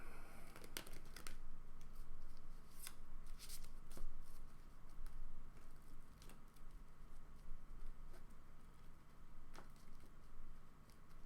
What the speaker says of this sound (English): Maybe I should just mute my mic when I'm shuffling